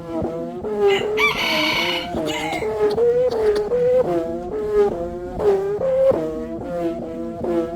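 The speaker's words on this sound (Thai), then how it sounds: "สำหรับสนนวาวตัวที่ผมถือมานี่ก็สิเป็นแต่งเสียงเรียบร้อยนะครับเสียงก็สิออกมาประมาณนี้" A Thai kite hummer (sanu wao), already tuned, gives off a loud buzzing drone with no voices. Its pitch wavers and swells in short repeated pulses over about eight seconds.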